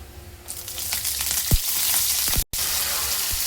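Mustard seeds and curry leaves sizzle in hot oil in a pan on a gas stove, a steady loud frying hiss with sharp crackles and pops, and no one speaks.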